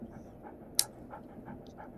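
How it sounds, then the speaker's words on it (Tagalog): A dog pants softly and rhythmically up close in a quiet indoor setting, with faint breathy puffs and one sharp click partway through. "Papat ko lang aso ko."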